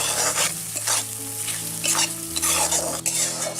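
Loud, continuous sizzling of spices, green chillies, turmeric and salt frying for raw banana kofta curry, with repeated spatula scrapes and stirring strokes throughout.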